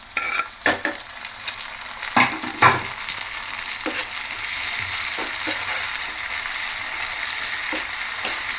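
Chopped tomatoes frying with ginger garlic paste in a pan, a steady loud sizzle with a few sharp stirring scrapes early on, no voices.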